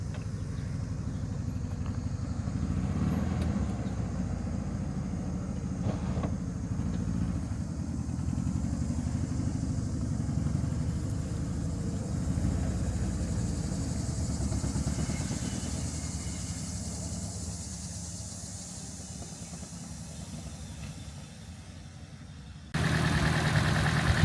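A Nissan Skyline R34 idles roughly, a steady low engine drone with faint clatter that holds at close range and eases slightly before a sudden louder burst at the end; no voices.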